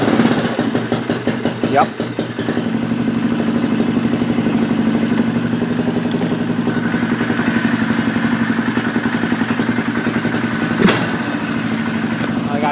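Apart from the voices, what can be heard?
Polaris Sportsman 500 ATV engine idling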